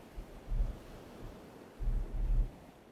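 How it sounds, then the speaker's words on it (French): Ocean waves washing onto a beach, two soft low surges rolling in and fading, faint and distant with wind, no voices. "Venir à regarder les vagues"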